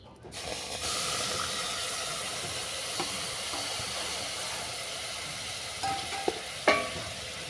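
Sugar and a little water bubbling into caramel in a wok, a steady soft hiss with faint stirring scrapes and a couple of sharper clinks near the end.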